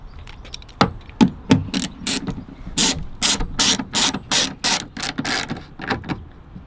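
Ratchet driving the rear lamp screws on a 2013 Fiat 500, close and crisp, a run of quick clicking strokes that speeds into dense rapid bursts.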